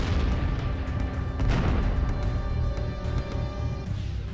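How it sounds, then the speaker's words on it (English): A supernova explosion sound effect: a deep, sustained rumbling blast with crackling bursts on top, loud and dense throughout, with no voices. "what was this mysterious force driving the blast into space?"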